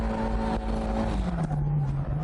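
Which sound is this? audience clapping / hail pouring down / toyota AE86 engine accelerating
toyota AE86 engine accelerating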